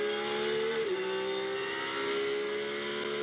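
A Porsche GT race car at Brands Hatch, heard on board: a loud, steady engine drone with a quick pitch dip and recovery as it shifts or lifts, then holds a high sustained note.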